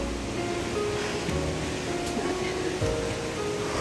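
A waterfall at a hot spring roars as a steady, broadband wash of falling water, continuous and fairly close throughout.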